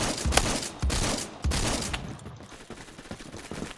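Shotgun blasts in the Roblox first-person shooter Phantom Forces, three loud sharp shots about half a second apart near the start, followed by quieter fainter game noise and distant gunfire.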